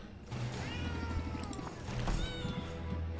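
A cat in the video game Potionomics meows in quick wavering calls, several in a row, close and clear over low game sounds.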